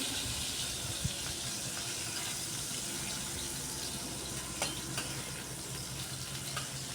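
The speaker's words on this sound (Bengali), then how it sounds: "এবার ওই তেলের মধ্যে বড় বড় করে কেটে রাখা আলু একটু ভাজা ভাজা করে নিচ্ছি" Large cut potato pieces frying in hot oil left over from frying rohu fish, a steady broadband sizzle with a few faint clinks, no talking.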